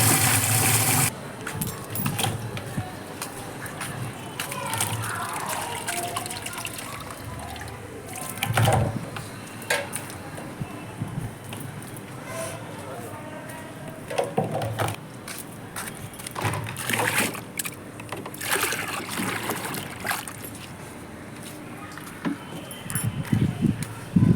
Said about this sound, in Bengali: গাইস তোমরা দেখতেই পেলে আমি এখানে কুলগুলো ভালো করে ধুয়ে নিলাম